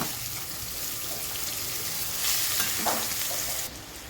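Onion dropped into hot oil with cumin seeds, sizzling steadily in a pan with a brief louder surge of frying and stirring midway, close and continuous with no talk.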